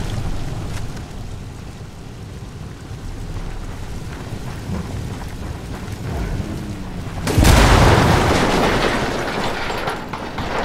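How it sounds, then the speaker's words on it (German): A deep, booming explosion in the video game Ghost Recon Wildlands bursts out after a stretch of rumbling engine and gunfire noise, then rolls away into a roaring tail. "Achtung, das explodiert."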